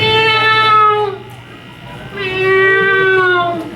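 A voice imitates a domestic house cat, producing two drawn-out, loud, close meows with a short pause between them over a faint steady hum.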